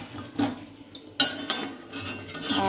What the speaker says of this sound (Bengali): তো আগে শুধু মাংসটাকে কষিয়ে নিই।